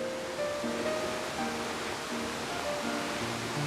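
Baskins Creek pours steadily over low rocky cascades, a dense, even rushing wash heard close and without pause.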